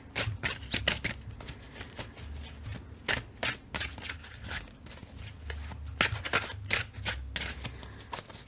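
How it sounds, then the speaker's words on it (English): A deck of tarot cards being side shuffled by hand, close and fairly quiet, with repeated bursts of crisp riffling and sliding card noise in an irregular rhythm, no talking. "this particular deck is not wanting that, is wanting the side shuffle"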